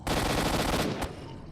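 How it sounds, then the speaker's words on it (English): Rapid automatic gunfire from STALKER: Shadow of Chernobyl rattles loudly for about a second, then cuts off, leaving a fading tail and quieter background noise. "I just saw one of the bullets go like way off course."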